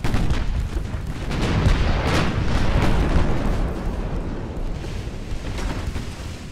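Six-inch naval shells strike a cruiser in Ultimate Admiral: Dreadnoughts, set in 1904, producing loud, rumbling booms that roll into one another in a dense, continuous barrage.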